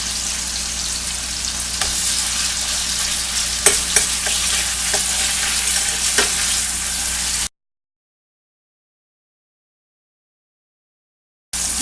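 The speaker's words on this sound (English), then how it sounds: "You're gonna do this like you stir frying it, like you making stir fried chicken" Chicken and green peppers sizzle steadily in a hot pan while being stir-fried, with a few clinks of a utensil against the pan, then the sound cuts to silence before briefly returning.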